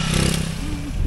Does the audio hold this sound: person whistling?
no